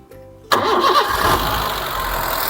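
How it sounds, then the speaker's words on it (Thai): Honda Jazz 1.5 i-DSI hatchback with a petrol engine that has never run on gas, cranking briefly and firing up, then settling into a steady, close idle. "เดี๋ยวผมลองสตาร์เครื่องให้ดูนะ"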